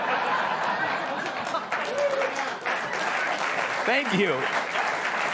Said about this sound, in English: Applauding swear words.